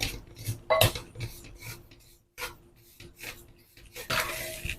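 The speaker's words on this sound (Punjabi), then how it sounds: "ਜੇ ਆਪਾਂ ਹੁਣ ਇਹ ਮੂੰਗੀ ਨੂੰ ਭੁੰਦੇ ਆ" Mung bean flour roasting in ghee in a pan for pinni, heard as close scraping and rubbing of a spatula against the pan in irregular strokes, with occasional metallic clinks.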